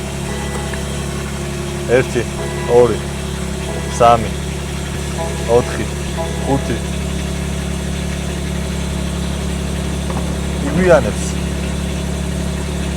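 A BMW G80 sits idling with a steady low engine drone, broken by several brief louder bursts spread across the stretch. A person speaks over it, counting aloud.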